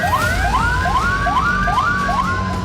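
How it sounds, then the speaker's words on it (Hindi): An air raid alert siren wails over Kyiv during Russian drone attacks, a loud rising-and-falling electronic tone cycling steadily about every half second, continuous with no voices. "कीव में एयर रेड अलर्ट के सायरन गूंजने लगे।"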